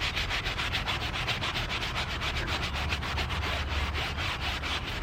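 Close, rhythmic scrubbing of a car seat armrest during cleaning, quick brisk back-and-forth strokes repeating steadily without pause.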